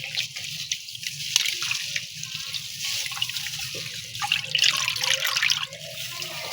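Raw beef pieces washed in water at a kitchen sink, with continuous running and splashing water, dripping and trickling, alone with no talk.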